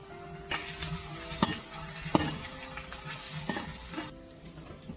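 Chopped shallots, curry leaves and mustard seeds frying in coconut oil for a jackfruit thoran, a loud close sizzle broken by sharp clinks and scrapes of a spoon stirring against the pan.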